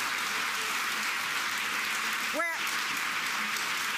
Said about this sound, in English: I just want everyone to just give you all a round of applause